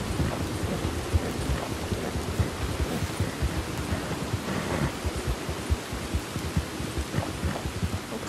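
Stormy weather in Red Dead Redemption 2: steady rain hiss with low rumbling thunder and scattered thumps, moderately loud and continuous, no speech over it.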